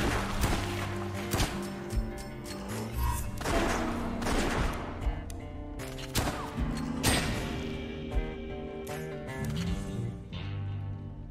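Rapid gunfire in the game West of Dead, with repeated sharp shots and thuds in irregular bursts over a steady musical background.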